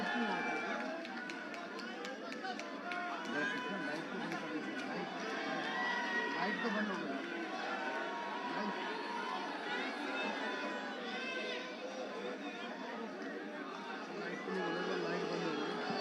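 A large crowd claps and cheers for Delhi's seven MPs at a Delhi assembly election victory rally, a dense, continuous roar of clapping, shouting and chatter with voices mixed throughout.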